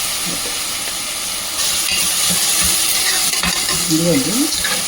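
Ingredients for a mutton bone soup frying in a pan, a dense continuous sizzle that swells louder partway through, with scraping stirs and clinks, close up, no talk.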